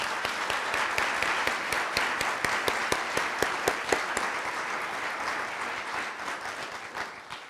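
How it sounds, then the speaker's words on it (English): An audience applauds volunteers honored with the Governor's Volunteer Award, a full and steady burst of clapping from many people, with sharp individual claps standing out in the continuous wash. "we can go ahead and give them a special round of applause"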